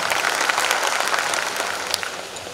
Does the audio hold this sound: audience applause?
yes